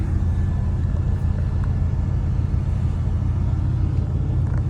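A 1979 Lincoln Continental Town Car cruising along, its engine and road noise forming a steady, loud low rumble heard from inside the cabin with no pauses.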